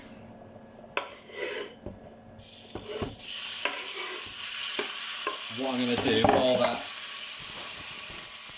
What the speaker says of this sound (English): that chicken is sizzling